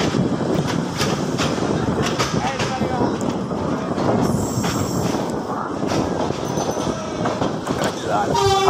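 A crowded DEMU commuter train on the Narayanganj line in Bangladesh rolls slowly, with steady rumbling wheels, occasional squeals and rattling carriage noise, under continuous chatter from packed passengers.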